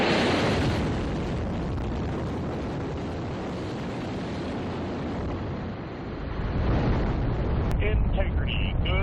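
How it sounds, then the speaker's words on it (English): Artemis II SLS rocket core stage engines ignite at launch from the Kennedy Space Center, a loud sustained roaring rumble that surges again near the end, with faint radio voices over the blast. "GLS is go for core stage engine start"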